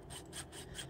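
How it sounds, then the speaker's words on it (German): A saw rasping through a metal chain in the horror game The Beast Inside, four steady back-and-forth strokes, close and fairly loud, with no voices. "Ich säge die Kette durch."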